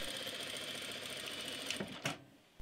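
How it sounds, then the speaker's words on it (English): A sewing machine stitches side seams on a garment, its rapid, even mechanical whir running close and steady before a couple of sharp clicks as it stops, with no talking. "do the side seams first and overlock them or zigzag stitch them when they're ready"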